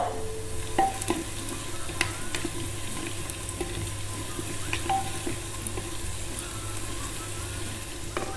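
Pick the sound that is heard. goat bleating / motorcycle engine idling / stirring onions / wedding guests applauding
stirring onions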